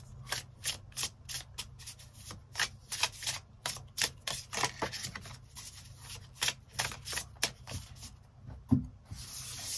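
Tarot cards shuffled by hand in a quick run of crisp riffling flicks, close and fairly quiet, repeating at an even rhythm over a faint background hum.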